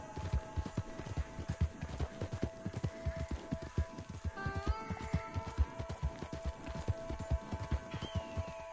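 Horse hooves clip-clop at a steady walking rhythm in Red Dead Redemption, close and continuous, with a brief whinny or tonal cue partway through and no talking.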